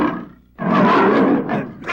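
A voice imitates a tiger's roar with a short growl, then a long, loud, rough roar close to the listener, ending in a second, shorter rumble.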